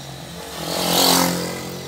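A motorcycle engine swells as it passes nearby, rising to a whine at its peak and then fading away.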